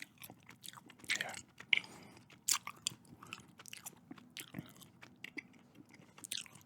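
Close, quiet chewing of Mike and Ike fruit-flavoured candy, soft irregular bites and sticky mastication with small crunches in a hushed setting, no talking.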